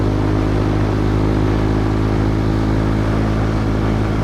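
A Kawasaki Z125 Pro motorcycle with gold rims rides past, a loud steady mid-pitched engine drone with strong low harmonics holding near and constant throughout.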